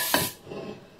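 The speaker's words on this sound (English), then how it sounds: "we're going to spray this bundt pan" A bundt pan gets a coat of cooking spray: one short, loud hissing burst at the start, then a quieter rubbing or sputtering tail as the spray settles.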